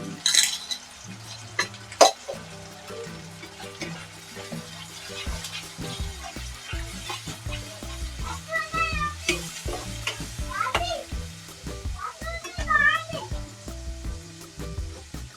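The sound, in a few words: tomato puree frying in pan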